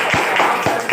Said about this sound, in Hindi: एक बार आप सभी लोगों के लिए जोरदार तालियां होनी चाहिए